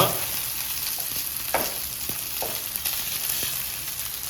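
Leftover white rice stir-fried in a pan for egg fried rice, giving a continuous crackling sizzle with occasional sharp scrapes and taps of a spatula, close and steady throughout.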